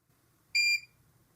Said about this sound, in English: Oh, it's beeping at us.